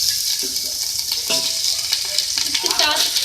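Golden onions frying with ginger-garlic paste in a pot for aloo matar pulao, a steady close sizzle with the occasional scrape and knock of a spoon stirring the pan.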